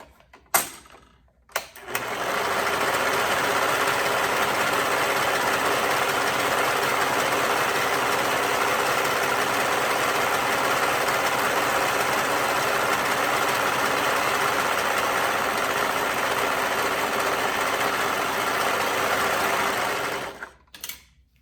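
A sewing machine stitches the curved edge of a hoodie hood with a half-inch seam. The motor whirs loudly and continuously for nearly twenty seconds, then stops, with brief handling noises before and after.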